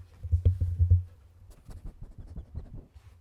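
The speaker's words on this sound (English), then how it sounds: "Dog did a big sniff to the microphone." Up close, a dog snuffles right into the microphone with a cluster of loud, rough bursts at the start, then scattered softer snorts and scuffs, with no voices.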